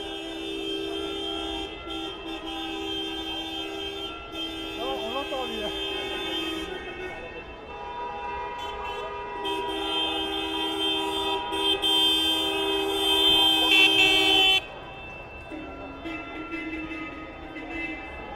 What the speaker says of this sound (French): un concert de klaxons qui commence et de moteurs qui brombissent